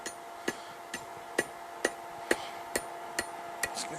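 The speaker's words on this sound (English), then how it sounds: "Use the flat side of my hammer." Sharp metallic blows of the flat side of a hammer on hot iron while forging a fire poker, ringing out in a steady rhythm, about nine strikes roughly half a second apart, close and clear with no talking.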